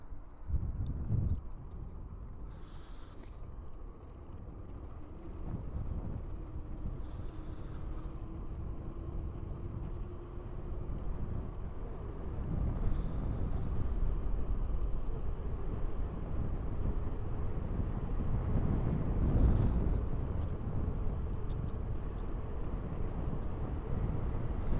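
Headwind blowing across the microphone during an electric mountain bike ride, a continuous low rumbling buffet that swells and eases over the whole stretch, with no talk.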